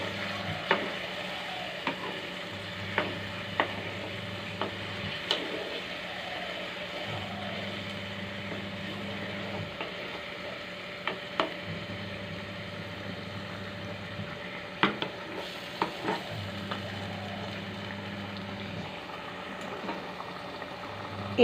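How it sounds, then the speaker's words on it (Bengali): Chicken kosha fries in a pan while being stirred: a steady sizzle runs throughout, with repeated light scrapes and taps of the stirring utensil and a low intermittent hum in the background. "এবার একটু নেড়ে নিচ্ছি।"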